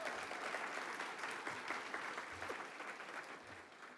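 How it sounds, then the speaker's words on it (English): An audience at a college awards ceremony applauds a retirement milestone with steady, even clapping that carries on for several seconds at a moderate distance and thins slightly toward the end. "Let's give her another round of applause for that milestone."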